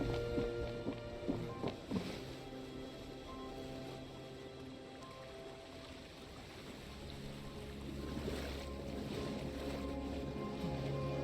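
Waves and receding water rush in a broad, steady wash with sustained tonal game-score layers over it, from a scene in the Genshin Impact video game.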